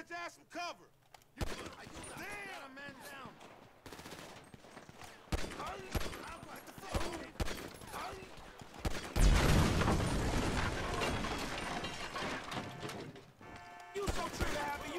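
Gunfire in the video game Grand Theft Auto V, with bursts of shots in a back-alley shootout, mixed with game effects and overlapping voices talking.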